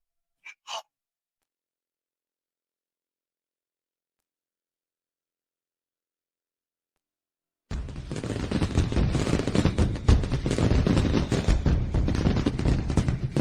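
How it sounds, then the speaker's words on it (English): Fireworks at a nighttime fireworks festival burst into a dense, continuous roar of overlapping explosions and crackle that begins suddenly after a long silence and stays loud to the end. "The fireworks festival is starting."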